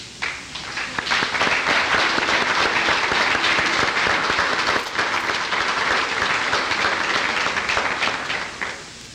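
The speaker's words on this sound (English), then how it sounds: "I'd like for us to give them a round of applause" A conference audience breaks into sustained applause, many hands clapping loudly and evenly for several seconds before tapering off.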